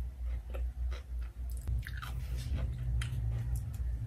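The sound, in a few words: eating tuna spread with onion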